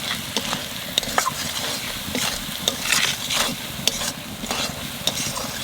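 Ground coriander, cumin, Kashmiri chili powder, salt and turmeric fry in a pan for a mutton dish, stirred with repeated scraping strokes over a continuous close sizzle, with no talking.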